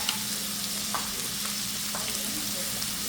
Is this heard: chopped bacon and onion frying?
yes